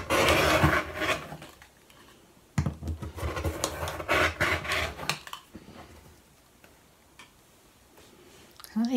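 A rotary cutter slices through folded old t-shirt fabric into strips, making irregular scratchy, ticking passes in short bursts with quiet gaps between them. The sound is close and moderately loud.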